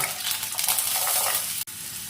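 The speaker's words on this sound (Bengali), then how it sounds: "দিয়ে দিচ্ছি" Potatoes dropped into hot oil with fenugreek seeds set off a loud, dense, continuous sizzle up close, broken by a brief dip near the end.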